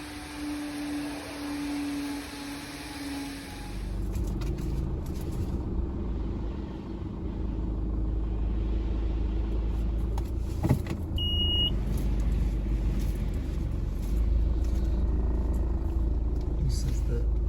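A pickup truck (ute) creeps through a cramped multi-storey car park, its low engine rumble and road noise echoing steadily, with a brief electronic beep partway through.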